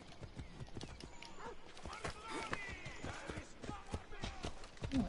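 Rapid hoofbeats of a horse clatter in a steady galloping rhythm in Assassin's Creed Odyssey, mixed with game sound effects and occasional whinny-like tones.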